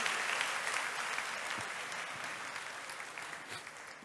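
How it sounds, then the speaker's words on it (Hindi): A church congregation claps in thanks during a worship service, a dense sustained burst of applause that holds steady and slowly tapers off. "यीशु मसीह को धन्यवाद की ताली बजाएंगे"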